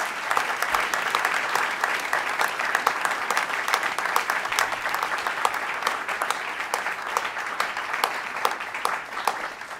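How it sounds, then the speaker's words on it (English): A NASA headquarters audience applauds the Pluto mission team: steady, dense clapping from a sizable crowd that runs evenly for nearly ten seconds, with sharper individual claps standing out now and then. "Let's give this team a round of applause."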